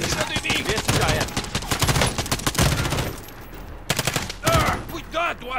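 Dense automatic gunfire and rapid bursts from a Call of Duty Warzone match, loud and continuous with brief pauses, sharp shots clustering near the end, with a voice talking briefly over the shooting.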